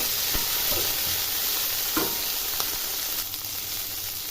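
Tomatoes stir and sizzle in a frying pan, a soft continuous fry with a few light scraping strokes of a spoon, fairly quiet and with no talking.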